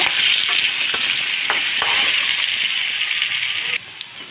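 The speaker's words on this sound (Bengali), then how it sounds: "মিষ্টি কুমড়াগুলো আমি এভাবে দিয়েছি কালার করে ভেজে নেব" Pumpkin pieces sizzle steadily in hot oil, with a few scraping stirs partway through before the frying noise drops off near the end.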